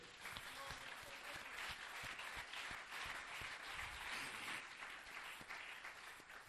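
Church congregation applauding in a steady, dense wash of many hands clapping, sustained and evenly loud throughout, heard from within the room.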